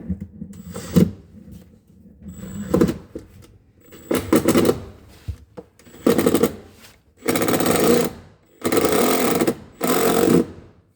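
A power driver with a number 2 bit drives screws into a new stove in a series of short whirring bursts, growing longer and louder toward the end, separated by quiet pauses.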